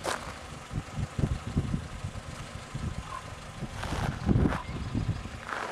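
A classic Dacia Logan with the standard 1.2 16-valve engine runs low and rumbling during an off-road uphill test drive, with uneven bumps and rattles and a couple of louder surges near the end, wind noise in the background.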